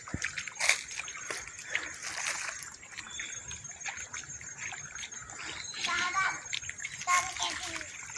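Water splashes and trickles while a tomato garden is watered, irregular sloshing bursts close by, with children's voices and talk over it throughout.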